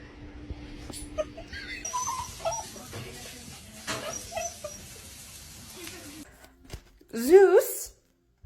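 A dog whimpers and yelps in a sharp, rising burst near the end, after a stretch of muffled household noise and movement.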